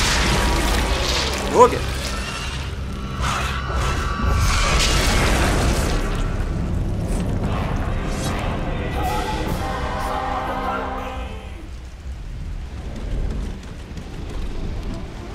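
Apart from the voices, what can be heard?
enemies exploding in God of War video game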